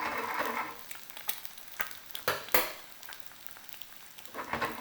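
Tocino, sweet Filipino cured pork, crisping in oil in a pan after the heat is switched off: a soft, steady sizzle and crackle broken by sharp pops and a few utensil scrapes, close up and with no talking.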